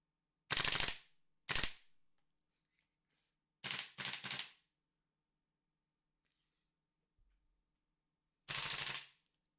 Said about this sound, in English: just toy gun